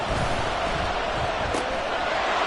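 Steady crowd roar filling a stadium in a Madden football video game, a dense continuous wash of cheering that holds at the same loudness throughout with no breaks.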